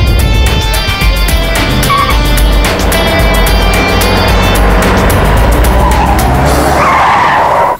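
Tires skid and squeal under a loud roaring car engine as one car chases a taxi, with a high whine over the rumble and the noise cutting off abruptly at the end.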